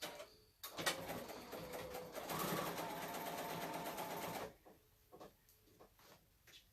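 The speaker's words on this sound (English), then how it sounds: "what's nice about this machine, I've got it set up the minute that you start sewing, it automatically back stitches" A sewing machine stitches the side seams of a ragged scallop pillow, a steady mechanical whir of about two seconds that stops abruptly, followed by quiet handling noises.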